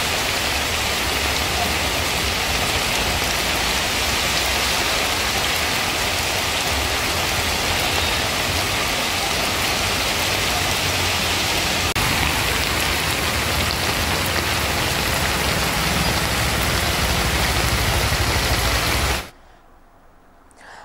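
Heavy rain pours down steadily in Hyderabad during a downpour that floods roads, a loud, dense, unbroken hiss of falling water with no voices, cutting off abruptly near the end.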